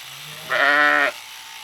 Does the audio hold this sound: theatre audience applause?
no